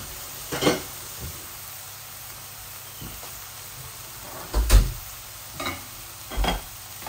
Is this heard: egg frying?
yes